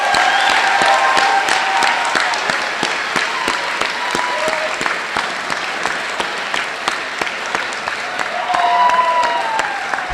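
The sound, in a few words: audience applause for graduating class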